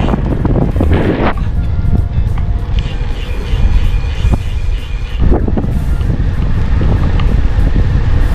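Strong wind buffets the microphone of a cyclist riding a minivelo bike near Nasugbu on the Kaybiang Tunnel loop, in a continuous loud rumble with gusty roaring and no clear voices.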